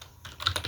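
Brief burst of keystrokes on a computer keyboard as router configuration commands are typed, several quick close clicks in an uneven rhythm, quiet and alone.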